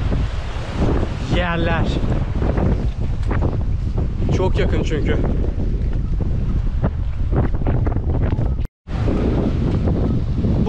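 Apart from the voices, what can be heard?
waves on a beach with wind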